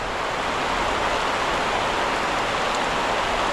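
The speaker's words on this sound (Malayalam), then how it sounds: "മഴ പിടിച്ച മഴയാണ്." Heavy rain pours steadily during a fishing outing, a dense, loud, unbroken hiss of downpour that stays constant throughout with no voices.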